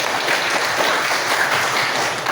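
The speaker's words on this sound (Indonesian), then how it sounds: "kita beri aplaus dulu" An audience applauds steadily at a talk on building resilience, a dense, even wash of clapping that fills the whole moment with no voices over it.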